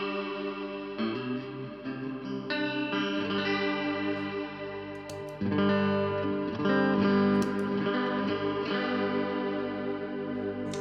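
An electric guitar through a Valeton Coral Mod chorus pedal, with reverb and delay added, plays sustained chords and single notes with a shimmering, wavering chorus wash and echoing tails, fairly loud and alone without talk.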